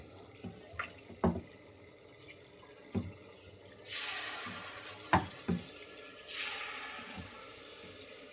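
Overnight-soaked punugulu batter is dropped into hot oil to fry. A low sizzle is broken by several soft plops and clicks, and two bursts of brighter hissing rise as batter hits the oil.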